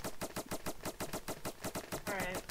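Rapid foam blaster fire from the Roblox game Foam Frenzy, a quick regular burst of sharp repeating shots, fairly faint, with a brief voice-like sound near the end.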